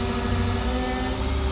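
A thyristor/IGBT-driven DC motor with tacho-generator feedback spins up, giving a steady, fairly loud mechanical hum with tonal whine, heard alone and continuous.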